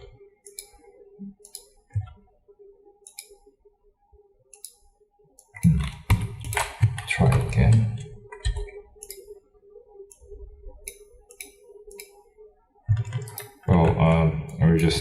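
Computer keyboard keys click in scattered single taps and short quick bursts, close and fairly quiet, with a few louder clusters of rapid typing.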